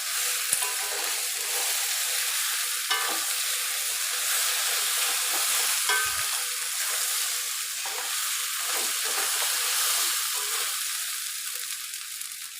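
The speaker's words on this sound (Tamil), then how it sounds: "மறுபடியும் கிளறி விடலாம்." Sliced okra for sabji fries in an open pan with a loud, steady hiss of sizzling oil, broken by a few scraping stirs and clinks of a spoon.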